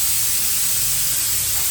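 Steam hisses steadily from a pressure cooker on a home stove as beef cooks inside, a loud, constant hiss with no break.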